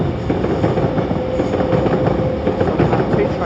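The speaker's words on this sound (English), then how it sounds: "And the 1834 London Northwestern Railway service to Tring." London Northwestern Railway train bound for Tring passing at Primrose Hill, London, a loud, close rolling rumble with quick rail clatter and a thin steady whine riding over it.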